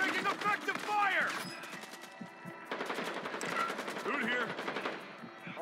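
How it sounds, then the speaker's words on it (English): Call of Duty Warzone 2.0 gunfire crackles in rapid automatic bursts, with a lull in the middle before the shooting resumes. Game voice lines and chatter are mixed in with the shots. "Taking effective fire"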